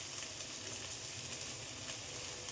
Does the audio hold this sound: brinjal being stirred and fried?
yes